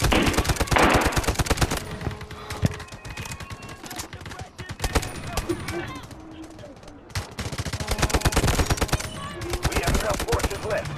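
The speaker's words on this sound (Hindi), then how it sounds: "स्मोक के अंदर ही गोलियां मारो।" Rapid bursts of automatic gunfire in the video game Delta Force crackle almost continuously, with brief lulls and a few single shots, loud and close in a busy game mix.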